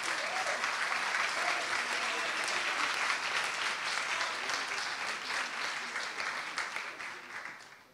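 An audience at a film awards screening applauds filmmaker Maxime Dupont with sustained, dense clapping from a crowd that holds steady and then fades out over several seconds.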